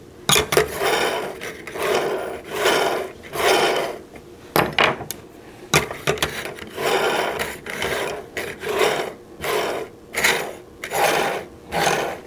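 Arrows spun one after another to check for wobble, giving a series of quick whirring, rasping bursts, each rising and fading within a second or so, close and fairly loud with short pauses between spins.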